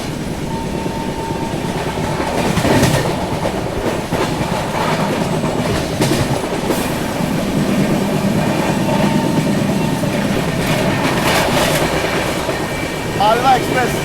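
A Malwa Express train passes a moving train at Kurukshetra Junction, a loud steady rumble of wheels and rail clatter lasting throughout, with a brief squeal near the end.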